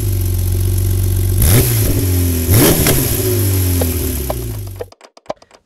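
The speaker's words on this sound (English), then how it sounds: "we went for a little bit of a drive and shifted up through the gears and did some downshifts and blipped the throttle" A Porsche 911 engine revs hard and close, rising through the gears with two marked shifts and throttle blips, then cuts off abruptly into a few faint clicks and ticks.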